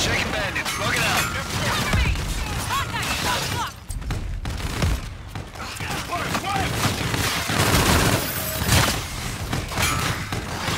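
Sustained, dense gunfire from Call of Duty: Infinite Warfare, with loud overlapping bursts and booms rolling almost continuously through a hectic combat scene.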